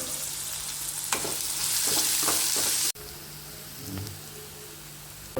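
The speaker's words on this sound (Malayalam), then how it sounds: "ചൂടായ ശേഷം അതിലോട്ട് വലിയ ഉള്ളി, ഉപ്പിട്ട് കൊടുക്കുക." Sliced big onions and salt hit hot sunflower oil in a pan for a chicken roll, giving a close, steady hiss and sizzle with a few stirring scrapes and a brief bump partway through.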